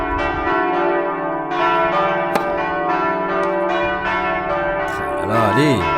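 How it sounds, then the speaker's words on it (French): A church bell rings out during an amateur tennis match in Paris, a loud sustained metallic toll with rich ringing overtones and long decay, near and filling the air. "Et la cloche qui me sauve."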